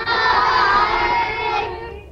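Primary schoolchildren cheering together in their classrooms, a loud burst of high-pitched shouting and whooping voices that holds for about two seconds and then fades out.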